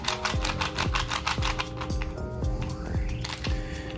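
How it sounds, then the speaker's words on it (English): A Yuxin 3x3 Cake Cube puzzle clicks sharply as its layers turn, a steady run of loud, close, regular snaps with no talking. "It is definitely a clicky puzzle."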